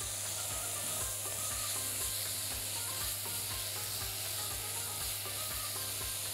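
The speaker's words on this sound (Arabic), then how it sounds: "ونقلب." A tomato mixture for shatta is stirred in a pan, with a steady hiss of frying under regular, rhythmic scrapes of the spoon against the pan.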